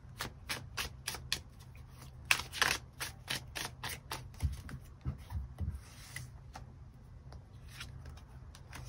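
Tarot cards are shuffled by hand in quick bursts of crisp riffling clicks and soft slaps, close and fairly quiet, with a few short pauses and no voices.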